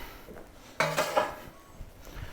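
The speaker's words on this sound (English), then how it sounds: "we can cut our pine nuts" A knife chopping pine nuts on a wooden board, a short cluster of close, crisp knocks and clatter lasting about a second, then quiet.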